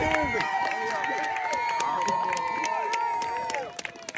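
Spectators at a children's tee ball game cheer and shout for a young child, high excited voices and clapping running steadily before dropping off near the end.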